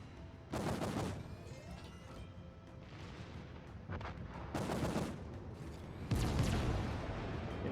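Naval guns fire in World of Warships as the Valkyrie cruiser trades broadside salvos, heavy booming shots landing in several separate bursts with rumbling tails between them.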